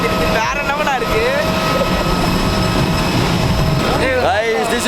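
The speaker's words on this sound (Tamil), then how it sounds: "Guys, this is our flight to Guwahati." Passenger airplane on a flight to Guwahati, a steady loud engine roar throughout with people talking over it.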